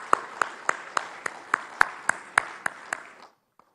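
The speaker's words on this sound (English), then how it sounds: "Can we also please have a loud round of applause?" Audience at a sports league player auction claps in steady unison, about a dozen evenly spaced sharp claps that stop abruptly, leaving near silence.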